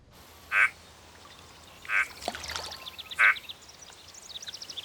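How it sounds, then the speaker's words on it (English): A lone frog croaks three times, spaced evenly over several seconds, each call a short nasal burst standing out over a quiet outdoor background with faint chirping. "Why just one frog croak and no others?"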